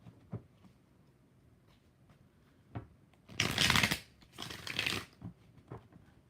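Tarot cards are shuffled by hand in two loud riffling bursts of about a second each, with soft card taps and handling noises before and after in a quiet room.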